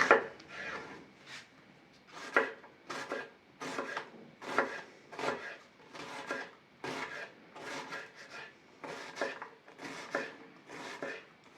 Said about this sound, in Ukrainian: Далі цибульку я наріжу півкільцями